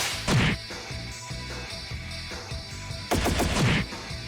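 Gunfire in the video game Trails in the Sky the 3rd, heard as two loud bursts of rapid shots with crashing impacts, set apart by a stretch of rumbling game background.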